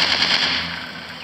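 A sniper shooting game set in a wild jungle with dinosaurs gives a short, loud, dense burst of rapid gunfire that fades slightly as it ends.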